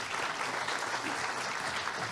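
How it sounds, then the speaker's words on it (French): A conference audience applauds the guests of a round-table panel, steady dense clapping filling the room without a break, loud and even throughout. "Sous vos applaudissements, merci."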